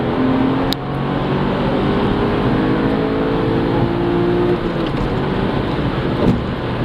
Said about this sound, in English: 3rd gear acceleration.